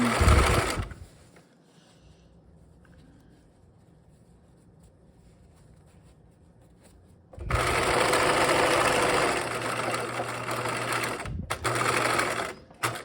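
A sewing machine stitches a backpack drawstring casing with a short opening burst, a quiet stretch, then a long, loud, close run ending in brief back-stitching bursts.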